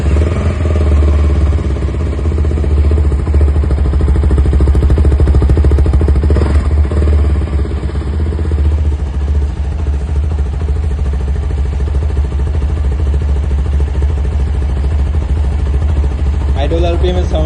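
CFMoto SR300 motorcycle engine idling up close, a loud, steady mechanical rumble with a light clattery texture that holds evenly for the whole stretch.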